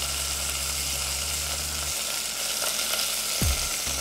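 Chicken sizzles steadily in a hot pan before barbecue sauce goes in, a close, even frying hiss with a low hum that stops partway and a brief utensil knock near the end.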